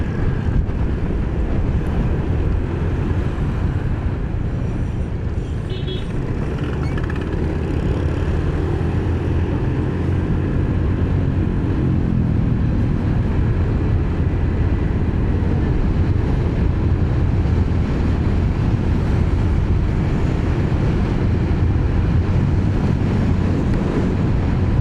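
Strong wind roars steadily over a Honda Beat scooter in motion, a loud, continuous broadband rush with low buffeting throughout, with no voices.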